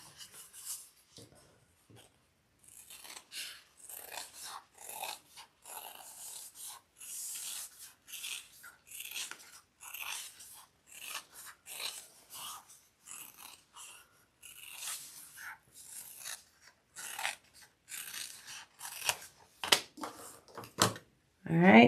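Fabric seam allowance on a custom AnnaBelle shoulder bag being trimmed during a nighttime sewing session: close, dry snipping and rasping cuts come in uneven bursts, growing louder and denser toward the end.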